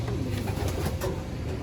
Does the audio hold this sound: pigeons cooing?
yes